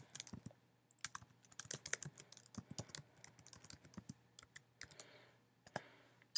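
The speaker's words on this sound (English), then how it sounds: "I'm just going to quickly put my password in just to show you." Quick keystrokes on a Mac keyboard entering a password, a close, crisp run of uneven clicks with short pauses between bursts.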